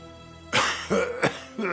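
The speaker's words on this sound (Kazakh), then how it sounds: "кім жөтелді?" An animated character coughs in a short burst of three or four rough, close coughs after a quiet pause, ending with a throat-clearing sound.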